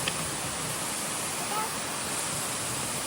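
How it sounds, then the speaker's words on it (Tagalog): The Consucep Waterfalls give a steady, broadband roar of rushing water that fills the scene at an even loudness, with a brief faint vocal sound near the start. "Dito na kami. Consosep Waterfalls."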